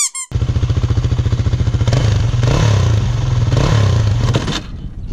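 A motorcycle engine revs loudly and close by, with a fast pulsing idle that climbs into sustained revving and then drops away near the end.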